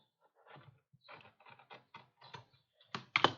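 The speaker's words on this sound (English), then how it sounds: "So I'm just going to cut it free this side and" A blade slices through leather for a dice tray in a series of short, quiet, crisp scraping strokes, spaced irregularly and ending with two sharper, louder cuts, close up with no talk.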